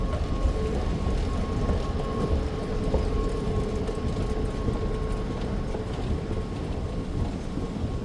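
A train rumbles past nearby, a constant heavy roar with a faint steady whine, loud and unbroken throughout.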